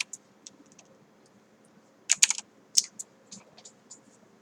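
Computer keyboard typing in a software tutorial: a few soft isolated key taps, then a quick close burst of clicks and a second short cluster, with quieter taps trailing off; no talking.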